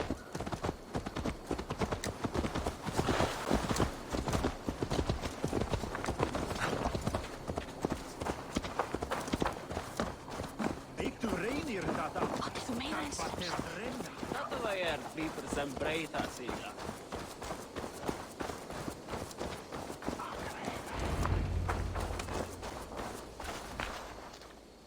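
Rhythmic hoofbeats of a horse in a video game clip-clop at a walking pace, brisk at first and then easing, with a voice talking over them and a low rumble near the end.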